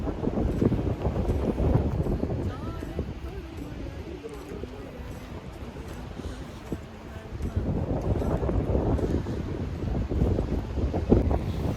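Strong wind buffets the microphone at a hilltop viewpoint in Kodaikanal, a continuous rough roar that swells and eases in gusts and fills the whole stretch.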